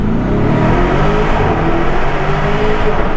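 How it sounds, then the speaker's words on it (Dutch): A car accelerates hard with its windows open, the engine note loud, close and continuous as it revs up, tuned to give exhaust pops and bangs. "de auto geeft lekkere pops en bangs"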